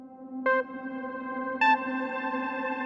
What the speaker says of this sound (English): Like a frozen reverb almost.